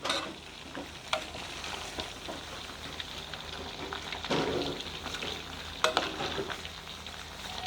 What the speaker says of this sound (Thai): ทอดแบบใจเย็นค่ะ ทอดไฟกลาง ค่อย ๆ ทอดค่ะ